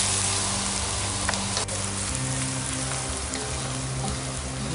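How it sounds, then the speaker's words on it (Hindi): Chopped onion frying in a pan for a Hyderabadi boti dish, a continuous close sizzle with fine crackling and a few sharper pops, even and steady throughout. "चॉप किया हुआ प्याज को मैं फ्राई कर रहे हैं"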